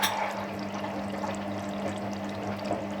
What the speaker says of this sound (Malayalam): ഇതിലോട്ട് നമുക്ക് എടുത്തു വച്ചിരിക്കുന്ന ടൊമാറ്റോ സോസ്